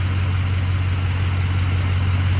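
A Ford Excursion's diesel engine idles steadily just after starting, a loud, close, continuous low rumble with no pauses.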